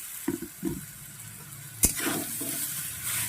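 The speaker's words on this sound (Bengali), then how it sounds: "ফোড়নটা ভাজা হয়ে গেছে এবার আমি দিয়ে দেব মূলোটা" Radish in oil tempered with turmeric, stirred and fried, with a soft sizzle under a few scraping stirs and one sharp clack of utensil on pan, close and quiet.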